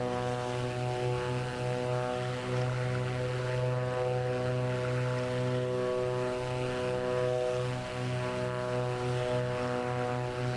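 Twin propeller engines of a Beechcraft Duke BE60 droning steadily in flight in Microsoft Flight Simulator 2024, a loud, even cockpit hum with stacked harmonic tones and no talk.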